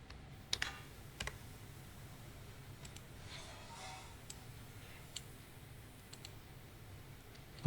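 Someone types on a computer keyboard in a quiet room, with soft, irregular key clicks and a few louder taps spaced across several seconds.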